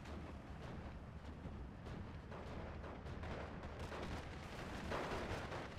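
Distant artillery fire and battlefield explosions from the strategy game Steel Division 2, a dense continuous rumble of booms and shots with no distinct individual blasts, moderately loud and without speech.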